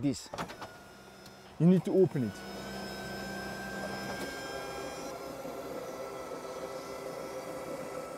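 An electric motor whirs steadily as a homemade truck camper's roof opens on a Land Rover, following a few brief voice-like bursts at the start.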